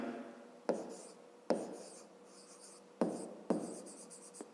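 Chalk or pen strokes while writing out a fifth-grade math problem solution: four sharp taps, each followed by a short scratching trail, spaced irregularly and heard alone in a quiet room.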